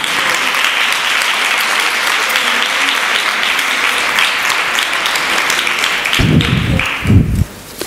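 A conference audience applauds louder on request. The clapping is sustained, dense and loud for about six seconds, then a few heavy thumps from handling or a microphone follow as the applause cuts off.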